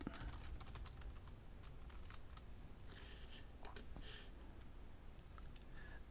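Computer keyboard keys are typed in a steady run of light clicks to enter an email address, filling most of the six seconds, close and clear over a faint background hum.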